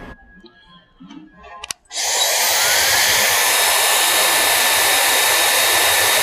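A hair dryer switches on after a brief faint sound, roaring steadily and loudly with a high whine for the rest of the clip.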